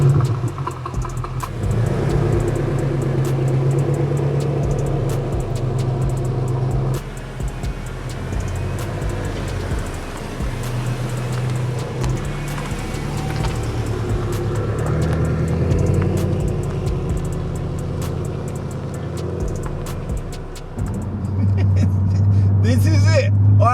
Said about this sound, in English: I am finally driving my M5 and it is in almost good running order.